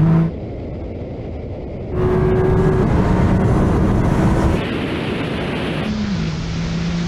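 A tuned sports car accelerating hard in a drag race produces a loud, sustained engine roar with wind rush, shifting pitch at gear changes, continuous and close.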